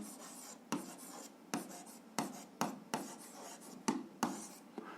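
A pen scratches across notebook paper in close, quiet strokes, each burst starting sharply and trailing off, repeating every half second or so with brief pauses between.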